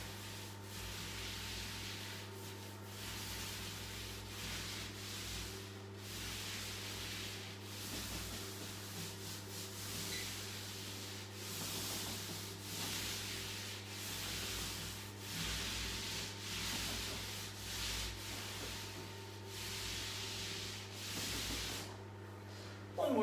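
A paint roller rolls paint across a drylining wall, making a continuous soft, wet rubbing hiss in long even strokes that stays close and steady throughout, over a faint constant hum.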